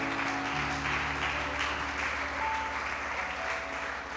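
A church congregation applauds in praise, steady sustained clapping over a low held organ or keyboard tone, heard from a moderate distance.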